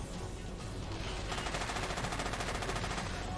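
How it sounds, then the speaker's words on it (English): Sustained rapid gunfire from an unseen shooter hiding in a bush in the video game Chernobyl Commando, a steady automatic rattle that grows denser and louder after the first second and continues to the end. "Someone's shooting me from a bush."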